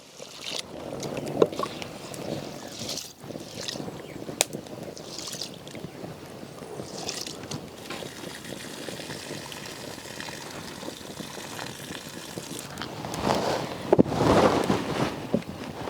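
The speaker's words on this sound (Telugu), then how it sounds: "రైస్ 1కి 2 సార్లు శుభ్రంగా కడుక్కోవాలి" Rice is washed by hand in water, with sloshing, swishing splashes and rubbing grains, close and fairly steady, with louder bursts of swirling near the end.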